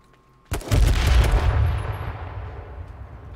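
A grenade explosion in a video game bursts suddenly and loudly after a short quiet, then a heavy rumbling roar with rattling gunfire-like texture slowly fades over the next few seconds.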